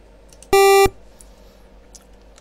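A single steady high-pitched electronic tone from a sample in ModPlug Tracker sounds for about a third of a second, then cuts off, leaving faint background hiss.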